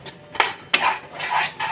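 Peas frying in a pan being stirred and scraped off the bottom, with a few distinct metallic scrapes and clanks of the spoon against the pan, close and clear, with no talking.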